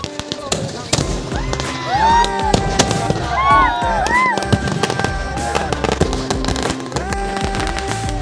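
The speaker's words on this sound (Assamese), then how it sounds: "আতচবাজী অনুষ্ঠানেৰে প্ৰত্যেক বছৰে ফিল্ডখন মুকলি কৰা হয়" Fireworks at a cricket tournament opening ceremony, DPL 2025 in Sorbhog, crackle and pop in rapid overlapping bursts with whistling streaks, loud and continuous over a murmuring outdoor crowd.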